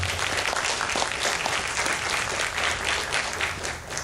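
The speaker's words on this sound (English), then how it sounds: "let's give Jeff Walmsley and his entire staff a great big round of applause for a great job" A festival audience at Mothman Fest gives a steady, sustained round of applause, dense clapping from a sizable crowd that holds at an even level throughout with no voices standing out.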